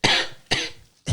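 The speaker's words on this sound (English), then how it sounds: "I'm about to start coughing." Three harsh coughs in quick succession, close and fairly loud.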